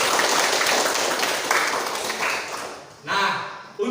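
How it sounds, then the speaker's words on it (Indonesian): A class of schoolchildren in a classroom applauds together, a dense crackle of clapping that rises, thins and ends within a few seconds, followed by a sharp final burst. "Maka untuk itu tepuk tangan dulu untuk kita semua."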